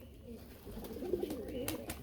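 Domestic pigeons at a pigeon seller's loft coo softly in short low murmurs, with a faint background hum and a few brief rustles.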